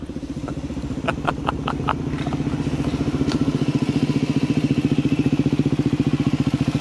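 An arriving motorcycle's engine rumbles close by, settling into a steady, throbbing idle with a few clicks and clatters early on.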